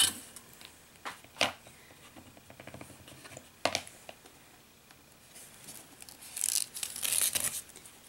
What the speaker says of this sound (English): just go ahead and cut your piece of duct tape